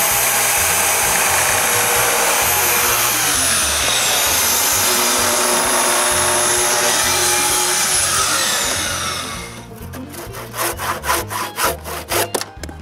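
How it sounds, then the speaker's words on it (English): Power tool sawing into a 6x6 timber beam while cutting a tenon, a loud steady whining grind for about nine seconds, then breaking into a series of rough, uneven rasping strokes as the cut finishes. "Then I cut both sides."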